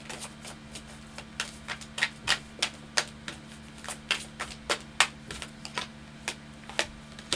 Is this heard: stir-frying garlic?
no